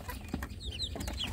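Young free-range village chicks (ayam kampung) crowded into a full brooding box, giving soft, scattered high peeps that keep coming over a steady low background hum.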